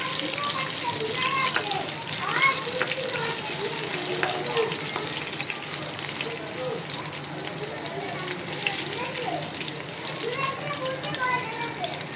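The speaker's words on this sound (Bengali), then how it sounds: "পটল ভাজা পটল ভাজা" Pointed gourd frying in a pan gives a steady, dense sizzle with a watery hiss throughout, close and fairly loud, with faint voices in the background.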